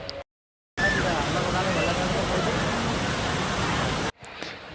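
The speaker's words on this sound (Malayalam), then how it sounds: "കണ്ണൂർ ജില്ലയിലെ മാത്തിൽ ചൂരൽ എന്ന സ്ഥലത്താണ് ഈ വെള്ളച്ചാട്ടം ഉള്ളത്." Waterfall at Chooral near Mathil in Kannur district, Kerala: a loud, steady rushing roar that starts abruptly after a brief silence, holds for about three seconds and cuts off.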